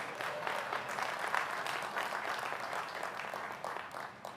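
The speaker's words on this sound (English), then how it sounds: "You can clap for him." Audience at a Morehouse College commencement applauding, a dense, sustained clapping from a large crowd that holds steady without voices on top.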